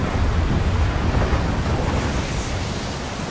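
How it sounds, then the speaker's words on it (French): Ocean surf breaks against a volcanic island coast in a broad, continuous roaring wash with wind noise, loud and steady with no voices. "Quelle que soit la mer, quel que soit l'océan, le ressac cherche à dévorer la côte."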